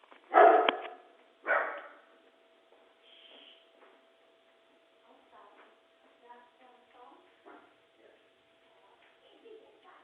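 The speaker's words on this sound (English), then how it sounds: "There goes my dog." A dog barks twice in quick succession from indoors, fairly loud, followed by a long quieter stretch of faint murmuring voices and a low steady hum.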